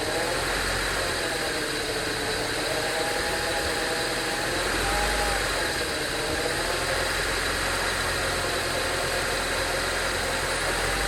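The engine of a 1995 Honda Civic idles at low RPM with a steady, dense, close rumble and a faint wavering whine, continuous and unbroken throughout.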